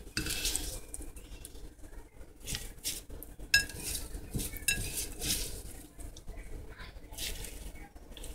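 Carnation petals and oil are stirred and handled in a small glass pan, giving steady clinks, scrapes and knocks of utensil on glass, close and fairly busy throughout without speech.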